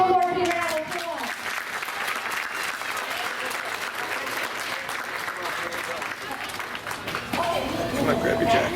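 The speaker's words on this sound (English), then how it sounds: "let's give our first graders one more big round of applause" A crowd applauds first graders at a school board meeting, steady clapping for several seconds, with a voice speaking over the start and again near the end.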